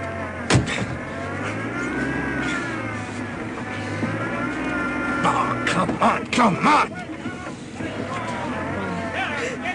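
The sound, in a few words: cold car engine straining in radio drama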